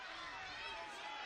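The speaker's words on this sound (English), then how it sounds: "here come some of those Hokie fans making some noise like we talked about" Virginia Tech Hokie fans cheer and shout at a wrestling match during the ACC Championship finals, a steady wash of crowd noise that fills the arena under ongoing voices.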